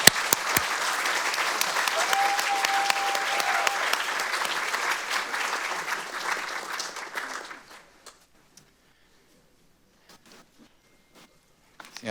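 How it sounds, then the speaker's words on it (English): A crowd at a community leadership awards ceremony gives a sustained round of applause that fills the room for about seven seconds, then fades out into near silence with a few faint stray sounds. "So let's just give them another round of applause"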